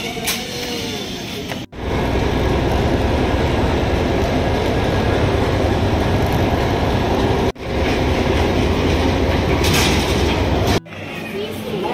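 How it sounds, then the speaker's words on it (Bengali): The Maa Tara Express runs at speed, with a loud, continuous rumble and rattle from inside the coach and a few abrupt breaks where the sound cuts off. "আমরা এখন মা তারা এক্সপ্রেস"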